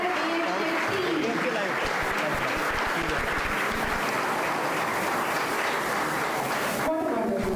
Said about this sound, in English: let's have a huge round of applause for the entire AHK team.